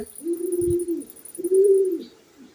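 A hand-held pigeon suffering from worms coos twice, two low, smooth, sustained notes close by with a short pause between, against a quiet background.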